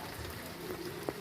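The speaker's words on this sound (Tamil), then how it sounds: "மிதமான வேகத்தில் தொடர்ச்சியாக கனமழை பெய்து வருகிறது." Heavy rain falls steadily across Thoothukudi district during the wet season, a soft, even hiss that holds at the same level throughout, with one small drip or tap standing out near the end.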